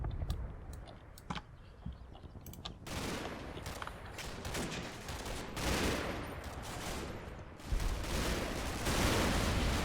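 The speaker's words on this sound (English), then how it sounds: "Yeah, there's that 20mm fire." Rapid 20mm cannon bursts and other gunfire crackle through a Combat Mission: Battle for Normandy battle in the Normandy hedgerows, dense overlapping shots at steady loudness with a heavier stretch in the middle and at the end.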